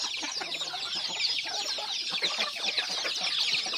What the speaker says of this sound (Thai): โยนมาให้ลูกไก่กินแล้ว